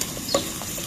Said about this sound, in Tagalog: Medyo lutuin muna ng ano, prito konti.